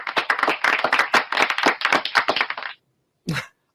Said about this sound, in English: I have to do the applause